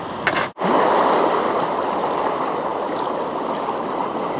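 Waves washing in at a fishing spot during ultralight casting make a steady, rushing wash. A short splash-like burst comes at the start, then a continuous, even roar.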